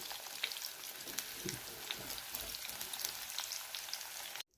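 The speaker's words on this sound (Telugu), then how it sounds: "అదే నూనెలోని చూడండి ఉల్లిపాయలు, దుంపలు వేసుకొని వేయించుకోవాలి." Onions and potatoes fry in hot oil, giving a steady, close sizzle with scattered pops and occasional stirring, then it cuts off abruptly at the end.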